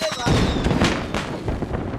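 Firecrackers bursting during a celebration in the PUBG mobile game on the Sanhok map, with a dense run of loud crackling pops and bangs under overlapping voices.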